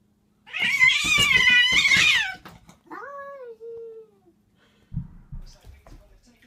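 Domestic cats meowing and caterwauling: a long loud wailing yowl, then a shorter falling meow, followed by faint low rustling thumps.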